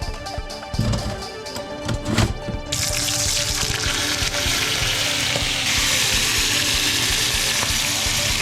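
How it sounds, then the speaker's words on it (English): Bacon frying in a pan gives off a loud, continuous close-up sizzle for most of the stretch, preceded by a few sharp clatters and knocks at the start. "I forgot I was frying it."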